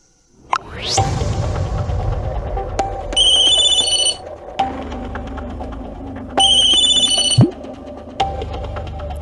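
A telephone rings during a call in a drama scene: two bright electronic ring bursts, each about a second and a half long, separated by a pause, heard over a low background hum with a few clicks.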